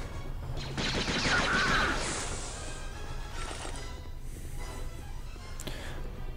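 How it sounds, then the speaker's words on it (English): Blaster fire aimed at stormtroopers in Jedi Outcast, a Star Wars game: a dense burst of bright, crackling shots up front, fading into scattered zaps over a steady low background hum. "we're shooting the stormtroopers"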